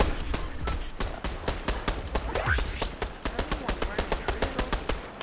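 Rapid automatic gunfire in the video game Fortnite, a long run of sharp, evenly spaced shots that tighten into a fast steady rhythm toward the end, loud and close.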